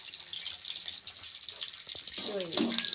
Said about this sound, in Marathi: आजीने आता लसूण टाकलेला आहे पहिल्यांदी तेलामध्ये हे बघा आता जिरे टाकलेले आहे